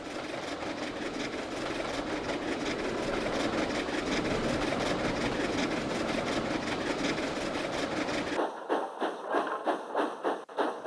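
A model railway train runs steadily, giving a continuous mechanical rumble with rhythmic clicking, then cuts to a quieter run of regular clacks near the end.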